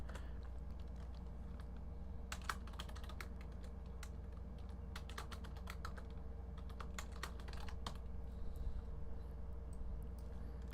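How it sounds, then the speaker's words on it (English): A computer keyboard is shifted and then typed on in bursts of quick, close clicks, with sparse taps between them against a low steady hum. "sorry, I got to reposition my keyboard again."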